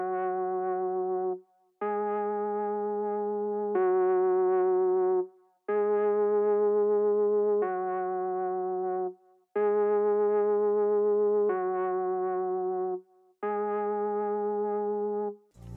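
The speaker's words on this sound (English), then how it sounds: "I added just this kind of like really simple top line lead" A synth top-line lead on the MO45 RPM keys preset alternates between two repeating notes, long sustained bright tones in a slow back-and-forth pattern with short gaps, clean and up front.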